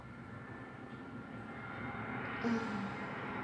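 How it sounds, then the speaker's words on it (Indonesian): An airplane passes overhead, a steady broad engine roar that swells slightly louder midway and holds, distant to moderately near, with no talk. "di sini ada pesawat yang lewat"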